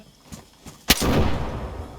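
A sharp, loud blast bursts out after a faint pop, followed by a rumbling tail that lingers, an explosion in the video game DayZ.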